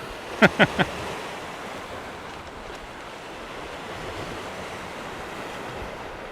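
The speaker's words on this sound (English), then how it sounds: "as we leave the seafront here in Camp de Mar" Sea waves on the seafront at Camp de Mar, Mallorca, on a sunny day: a steady, broad wash of surf with some wind, preceded by three quick faint knocks near the start.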